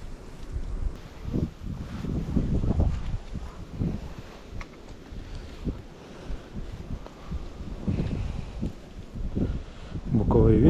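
Strong gusty wind by a small river during lure fishing, with repeated low rumbling buffets hitting the microphone in bursts while someone talks throughout.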